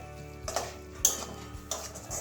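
Spoon scraping and stirring bitter gourd with mustard paste and raw mustard oil in a metal pan, several distinct clinking strokes spaced across the clip over a faint low hum.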